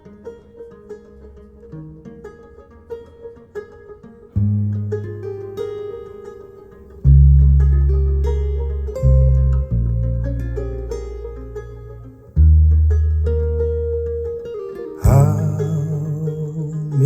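Jazz from a fresh, never-released tape plays through a Nagra reference system: full instrumental music with heavy, punchy bass notes and bright melodic lines, steady and close, swelling louder near the end, with no talking.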